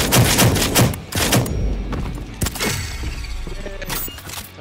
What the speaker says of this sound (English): Good shooting, Wicked.